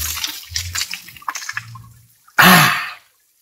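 Water gushes from a fountain spout in a short, loud, close burst after a stretch of scattered faint knocks and movement, then stops abruptly.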